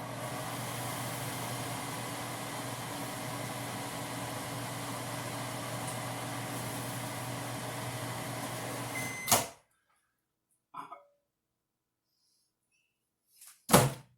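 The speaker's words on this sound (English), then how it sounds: "Microwave time." A microwave oven hums steadily for about nine seconds, then cuts off abruptly, followed by a few brief clicks and a short beep-like burst in near silence.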